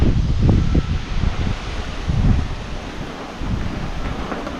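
Strong wind gusting at a homestay, a continuous broadband rush with loud low-pitched buffeting on the microphone that swells and eases in waves, no voices.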